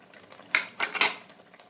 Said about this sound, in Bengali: মশলাগুলো দিয়ে আবারও একটু কষিয়ে নেব